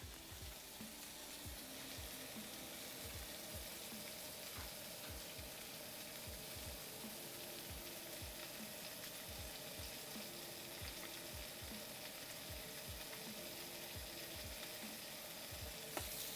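Steady, crackling sizzle of salmon frying in a hot pan, continuous and close, with faint low clinks and scrapes underneath.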